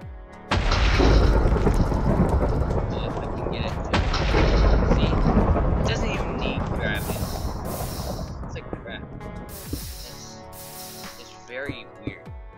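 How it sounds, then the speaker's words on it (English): Thunder from lightning strikes in the Minecraft video game: long, heavy rumbling booms rolling continuously for several seconds, loud and close, then fading into sharper cracks near the end, with a voice talking faintly over it. "let me show you some lightning."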